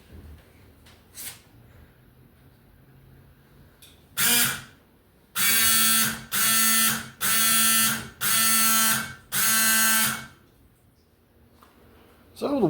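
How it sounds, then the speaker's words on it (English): Windshield washer pump on a classic Mustang buzzing in five steady, loud bursts of about a second each, separated by short pauses, after a single brief buzz and quiet rustling. "the windshield washer system works"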